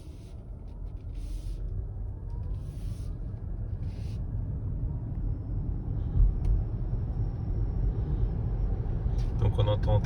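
A Lexus NX 450h+ plug-in hybrid drives along a road, giving a steady low rumble of road and tyre noise with little engine sound. It grows slightly louder toward the end, and faint speech rises over it now and then.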